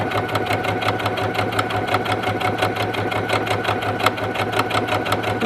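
A sewing machine with a blind hem foot runs steadily, top stitching along the outer edge of a shirt collar, with a loud, even mechanical whirr and rapid needle chatter throughout and no voices.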